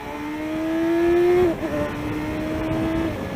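A BMW S1000XR motorcycle engine on a ride through central Otago, New Zealand. It gives a steady, close whine that climbs, drops sharply at a gear change, then holds a continuous tone with no talk.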